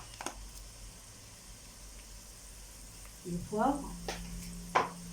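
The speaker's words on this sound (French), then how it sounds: "Pour les faire revenir, j'ai mis un peu d'huile et un petit peu de beurre" Sliced shallots frying in a pan with a little oil and butter give a soft, steady sizzle beneath someone speaking French, with brief louder stirring scrapes near the end.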